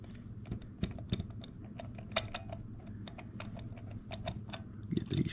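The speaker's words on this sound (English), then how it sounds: "Put these screws in. Take your screwdriver." A screwdriver driving small screws into a Stinger LED flashlight during a switch replacement, producing quiet, irregular clicks and ticks of metal and plastic, close up and faint, with no talking.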